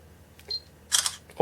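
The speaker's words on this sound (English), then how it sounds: "or just press the camera shutter button" Samsung Galaxy S3 Mini phone camera shutter sounding once, a short crisp click burst near the mic, followed by a brief thump as the clip ends.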